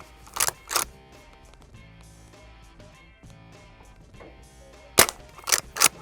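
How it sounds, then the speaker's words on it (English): Four sharp airgun shots at a bottom target, spaced as two pairs, one pair near the start and another about five seconds later, with faint background sounds between them and no talk. "I'll shoot the bottom target"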